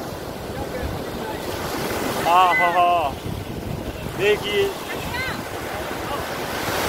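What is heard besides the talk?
sea waves at Dhanushkodi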